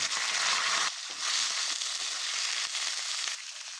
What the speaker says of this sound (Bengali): ওই তেলের ভিতরেই আমি পটলগুলো দিয়ে দিলাম।